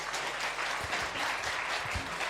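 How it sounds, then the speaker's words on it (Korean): A church congregation claps in warm, steady applause welcoming a pastor to the pulpit at a Sunday worship service, a dense even patter throughout. "뜨거운 박수로 환영하겠습니다."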